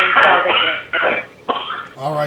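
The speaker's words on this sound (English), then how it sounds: "You can hear him coughing in the background." A man coughs and clears his throat in the background of a phone call on a radio call-in show, with a few short rough bursts under and between a speaking voice.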